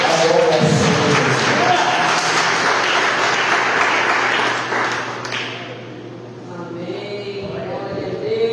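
A church congregation claps in praise during an evening worship service. The clapping is mixed under a voice speaking and ringing music tones, and it fades somewhat toward the end.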